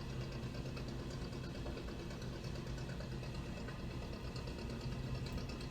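Diesel engine of a fishing boat on the Barents Sea, running steadily with a continuous knocking, idling-like rumble that stays constant and fairly loud throughout, with no talking.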